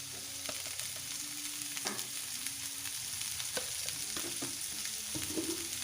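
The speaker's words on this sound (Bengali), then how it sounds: "মশলাগুলো দিয়ে কিছুক্ষণ ভালো করে একটু কষিয়ে নেব।" Spices including turmeric powder and salt fry and are stirred in hot oil, a continuous sizzle broken by repeated scraping and tapping of a spoon against the pan, close and fairly quiet, with no talk.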